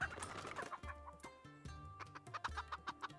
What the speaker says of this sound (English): Oh, you get little chicken noises.